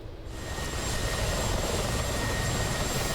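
Mi-24P Hind helicopter cruising along the Cyprus coastline in DCS, its engine and rotor roar swelling in over the first half second and then holding as a loud, steady, dense drone.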